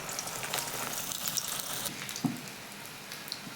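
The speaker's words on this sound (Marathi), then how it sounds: "आता आपण एक एक करून वड्या घेऊयात तळून।" Vadis frying in hot oil, a soft, even crackle and sizzle with a few small pops. Fairly quiet and close, with no talking.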